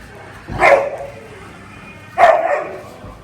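Two loud dog barks spaced over a second apart, close by, against a quiet background hum.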